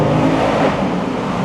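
A Ford Mustang GT convertible's 5.0-liter Coyote V8 revs hard under acceleration, with a loud, steady, dense engine roar sustained throughout and no talking over it.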